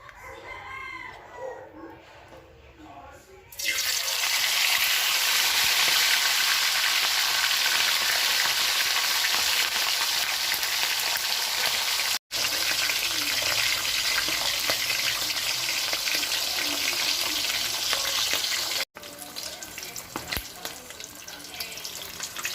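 Fish sizzling in hot cooking oil in a pan, a loud, steady broadband crackle that starts abruptly and holds, with two brief breaks near the end.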